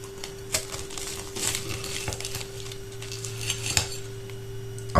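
Cutlery clinks and scrapes against a plate while a fresh-baked pastirma pie from Kayseri is cut open, a run of small metallic taps and crinkly pastry sounds at close range with no talking.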